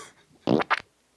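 A short, close fart made of two quick bursts, loud against near-silence, with no speech during it.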